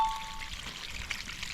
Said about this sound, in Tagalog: Ang lakas ng tubig mga kabisig oh.